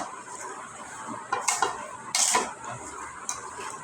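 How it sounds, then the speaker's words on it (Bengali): Sweet mango pickle mixed with salt and sugar being stirred in a metal pot, with soft scraping and a few louder clinks and scrapes of a spoon against the vessel, close up with no talking. "দিয়ে এটা নাড়াচাড়া দিয়ে কতক্ষণ করে রাখবো চিনিটা গলার জন্য"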